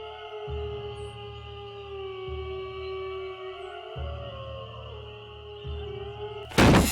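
Eerie drawn-out howls of the ghost dogs in the Nancy Drew game Ghost Dogs of Moon Lake, sustained wavering tones over a pulsing low drone, ending in a sharp loud burst.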